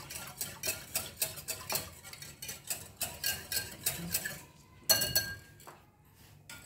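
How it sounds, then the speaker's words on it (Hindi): A spoon stirs a homemade mango drink, clinking steadily against the container in a brisk rhythm of repeated chinks, close and fairly clear, with a short pause near the end. "इसको सबको अच्छे से मिक्स कर लेंगे।"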